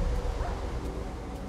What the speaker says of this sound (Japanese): また、可愛いワンコを切ってしまった。